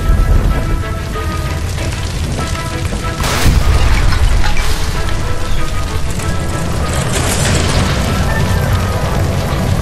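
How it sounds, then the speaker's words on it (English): Gas line blowing up in the LA Noire video game: a loud boom bursts in partway through over a dense, roaring, rumbling background that carries on steadily afterward. "Shoot the gas line, Cole, we're out of here!"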